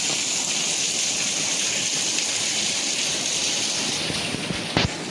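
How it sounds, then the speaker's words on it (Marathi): Heavy rain pours down in a dense, steady roar of drops, loud and close throughout, with a brief knock near the end and no voices. "एवढा जोरात पाऊस येतोय की कसं जाऊ समजत नाही आहे."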